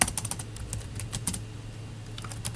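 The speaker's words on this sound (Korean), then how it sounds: "그냥 이걸 타이핑 해보겠습니다" Rapid, uneven typing on a computer keyboard, close and clear, with clustered keystroke clicks over a low steady hum and no talking.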